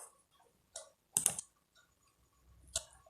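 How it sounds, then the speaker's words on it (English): Several separate clicks on a computer keyboard while typing a command, quiet and sparse with gaps between the short keystrokes in a still room. "I can type this whole command in the notepad"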